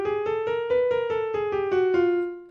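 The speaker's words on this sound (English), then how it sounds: "But with a chromatic scale, it sounds like this." Piano notes struck one after another in an even rhythm, climbing and then descending in semitone steps as a chromatic scale, clear and alone with no talking.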